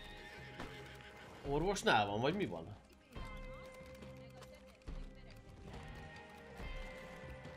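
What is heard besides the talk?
horse neighing and hooves clopping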